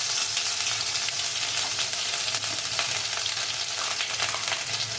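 A loud, continuous close sizzle as tomato puree cooks into frying garlic, onion and chili paste in a pan, with faint stirring scrapes beneath the dense hiss.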